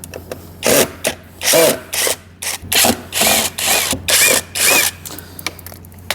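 Power driver unscrewing four bolts from a Toyota Torres console, loud close whirring bursts of about a second each, repeated several times with short pauses between.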